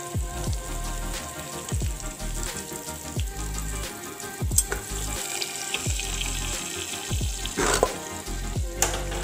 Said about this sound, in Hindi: तो अब आपका ये तड़का जाएगा आपके सांभर में।